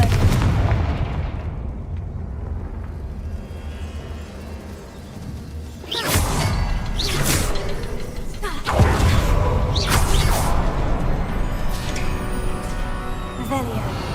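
The Confringo fire blast spell in Hogwarts Legacy is cast repeatedly, with several heavy booming blasts after a quieter stretch of ambience and then a lingering rumble between impacts.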